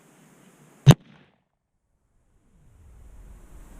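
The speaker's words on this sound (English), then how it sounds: "now it is time to go fire us some steel core bullets" A single gun firing steel-core bullets into a homemade dummy outdoors, one sharp, loud report that cuts off into near silence, followed by low wind rumble.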